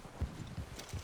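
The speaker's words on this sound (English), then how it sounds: "I want Charles's horse so bad." Horse hooves walking in Red Dead Redemption 2, a few soft low thuds spaced at a slow, uneven pace over a faint ambient background.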